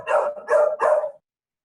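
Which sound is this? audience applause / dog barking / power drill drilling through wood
dog barking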